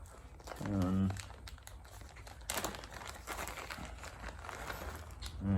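A bag of small bike parts, screws, little fuel-supply joiners and O-rings, is crinkled and rustled close by in bursts while someone talks over it.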